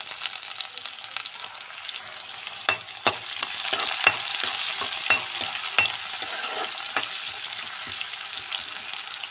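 Onion and ginger frying with whole cumin in a pan for a Himachali arbi (taro root) curry, a steady close sizzle with scattered sharp crackles and spatula scrapes throughout, no voices.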